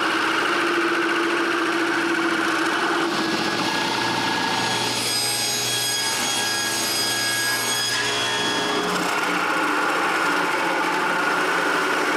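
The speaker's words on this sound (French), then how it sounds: "je suis à la perceuse à colonne et je fais tous les trous qu'il me faut pour les rouleaux." A drill press motor hums and whines steadily while drilling holes for sander rollers. Midway its tone shifts and strains for a few seconds as the bit cuts, then it settles back.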